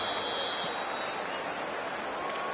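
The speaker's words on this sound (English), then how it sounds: "This Boise State crowd bringing the noise." A Boise State football stadium crowd roars in a broad, continuous wash of cheering and noise, loud and distant-sounding, with a high whine faintly riding on top.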